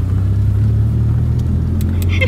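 A Proton car engine runs at a steady low rumble close by, continuous throughout, with a few brief clicks and knocks near the end.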